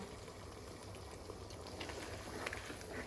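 Curry with tomato wedges bubbling in a pan over a medium-high gas flame, a steady faint simmer and hiss with occasional soft pops, close and continuous with no talk.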